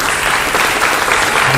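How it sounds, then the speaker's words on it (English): Short burst of loud, dense audience clapping after a performance at a Deepavali celebration, close and continuous. "Another round of applause."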